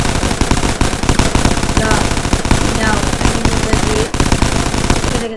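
Weapons firing in a Minecraft war mod, including an AK-47, as a dense, loud, continuous stream of rapid automatic shots with almost no break, and someone speaking briefly in French at the start.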